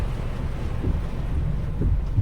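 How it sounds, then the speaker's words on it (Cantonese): Strong typhoon wind and rain on a coastal road near Shuangyue Bay make a continuous, heavy, low roar with buffeting gusts that swell and ease, with no talking. "更加狂風啊！"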